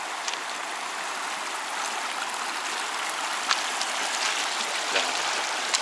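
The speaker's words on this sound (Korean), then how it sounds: "어우, 물살이 엄청 세네." A fast-flowing mountain stream at a campsite rushes steadily and loudly nearby, its continuous watery hiss unbroken throughout.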